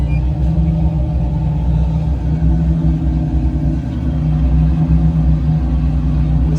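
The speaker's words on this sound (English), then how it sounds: "starting port engine." A boat's port and starboard engines idle together on an Okeechobee waterway crossing, a loud, steady low rumble with an even throb and no talking.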